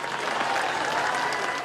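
Crowd at a funeral applauding as the mother arrives, steady dense clapping from many people at moderate distance, continuous with no voices standing out.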